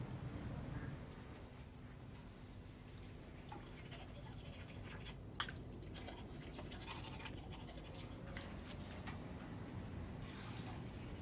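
A toothbrush scrubs teeth in a hotel room, a steady soft bristly scratching with brief strokes and faint watery patter, quiet and close with no talking.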